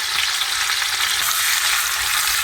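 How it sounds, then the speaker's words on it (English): Veal pieces sizzle and fry in a pan on high heat for a stir-fry, a steady, loud crackling hiss close by with no talking. "So it's on high heat setting so that the veal meat can cook quickly."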